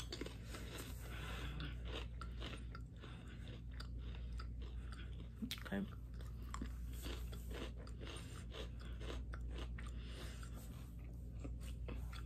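Crunchy chewing of generic cheese crackers, close and steady bites over a constant low background hum, with no talking.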